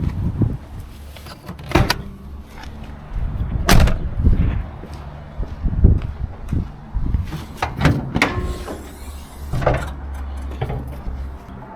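Opening the bonnet of a Ford EF Fairmont 5.0, heard as a series of loud, close mechanical clunks and thuds: a latch release, then the hood being lifted and propped, with rattles and scrapes in between and no talking.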